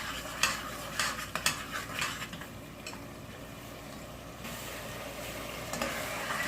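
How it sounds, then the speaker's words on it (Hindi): Spiced beef qeema frying with dry coriander and whole cumin in a pan, with a few clinks and scrapes of stirring early on over a low, steady sizzle, and no talking. "इसको मज़ीद थोड़ा फ्राई करते हैं।"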